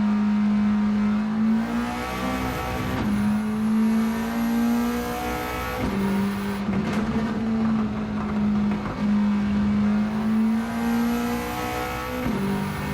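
Abarth 500 with an upgraded 1.4 turbo engine in Gran Turismo 7, a loud buzzy exhaust note climbing through the revs with several sharp drops at gear changes, heard alone.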